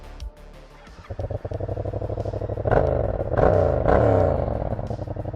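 A 2017 Yamaha MT-07 motorcycle on its stock exhaust starts up: a brief starter whir and cough, then the engine catches and settles into a choppy idle with a couple of short blips of throttle, close and fairly loud.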